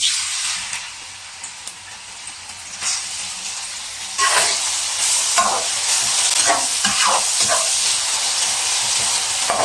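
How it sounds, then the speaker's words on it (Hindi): Steady, loud sizzling of onions frying in hot oil, with occasional crackles and bursts of spattering building partway through. "तेल गर्म हो चुका है तो प्याज डाल देंगे।"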